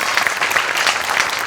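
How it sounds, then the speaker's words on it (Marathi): Steady applause from a live comedy audience for an actor, a dense continuous patter of many hands clapping throughout with no talk over it. "त्याच्यासाठी पुन्हा एकदा तुझ्यासाठी टाळ्या"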